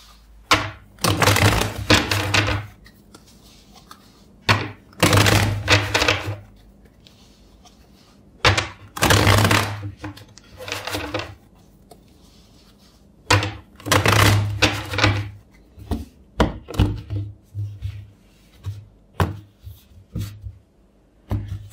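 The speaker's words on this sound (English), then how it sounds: "first I will shuffle the deck four times for you." Tarot cards are shuffled in four separate riffling bursts, each a dense flurry of papery flicks and slaps, followed by several lighter taps and card placements.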